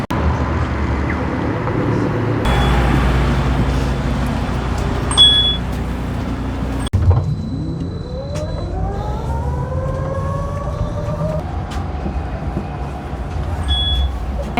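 Steady road traffic at a Sydney bus stop on a cool day: a constant engine rumble with passing vehicles, a rising whine from an accelerating bus, and faint high beeps, loud and continuous.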